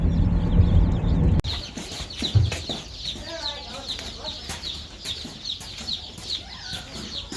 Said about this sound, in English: The baby chicks are now in transport on their way to their new home.